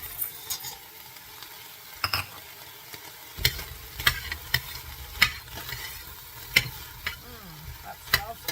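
White onions fry with pork in a hot pan, a steady sizzle broken by repeated sharp scrapes and clacks as the mix is stirred, close and fairly loud.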